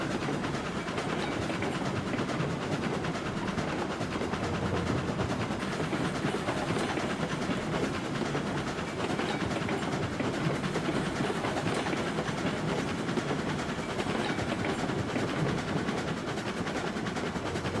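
A steam locomotive hauling rail cars in RailRoads Online gives a continuous dense rolling rumble with steady clickety-clack and hiss, unbroken and fairly loud throughout, no voices.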